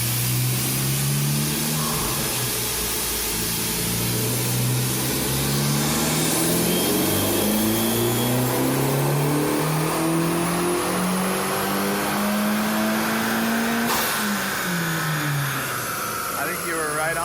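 An Acura Integra Type S engine revs hard through a launch control start, pitch climbing in repeated rising sweeps as the car pulls away, loud and close, with people talking over it.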